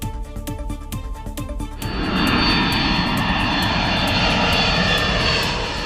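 An airliner's engines roar as the plane descends near Ahmedabad, Gujarat, just before its crash, starting as a rhythmic propeller-like drone, then swelling into a loud, broad, steady jet roar that holds to the end, with no talk.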